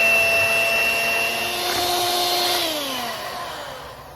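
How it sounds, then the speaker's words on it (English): Electric hand mixer whipping cream into a cheesecake cheese mixture, a steady close whirring motor hum that holds level and then slows and drops slightly in pitch toward the end, with no talking. "Now we got our mixer ready. A little bit at a time with that cream."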